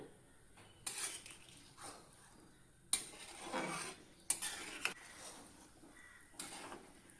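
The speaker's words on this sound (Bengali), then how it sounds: "জলটা দিয়ে নিয়ে একটু নাড়াই দিলাম" A metal spoon clanks and scrapes around a pot of local chicken curry after hot water has gone in, with a few loud, irregular strokes and quieter gaps, heard close up with no voices.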